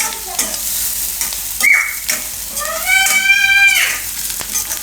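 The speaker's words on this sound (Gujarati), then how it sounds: "તો તો ડુંગળી આપણે થોડીક વાર આ રીતની પકાવી લેવાની" Onion cooks in a pan for aloo uttapam, giving a steady close sizzle with stirring scrapes throughout and short high squeaks over the frying.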